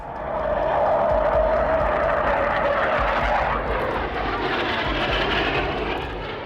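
A Lockheed SR-71 Blackbird military jet roars loudly and steadily, a broad continuous engine rush that shifts slightly in tone midway, as if passing close by.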